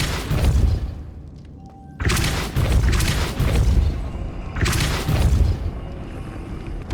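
Depulso spell effects from Hogwarts Legacy on Switch: two sharp, loud booming blasts, each followed by a rumbling, crashing decay, with a softer thump between them.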